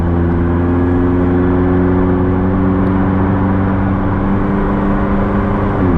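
A 2019 McLaren 600LT engine drones loudly and steadily at low revs while holding its gear longer before a shift, the tone sliding down slightly near the end.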